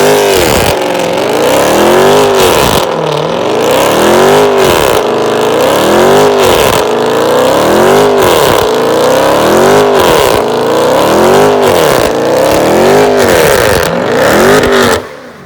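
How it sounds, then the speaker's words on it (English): A Dodge Hellcat does a burnout, its engine revving hard and repeatedly in steady surging cycles, loud and close throughout before cutting off at the end. "A Hellcat is planning on finishing off their rubber."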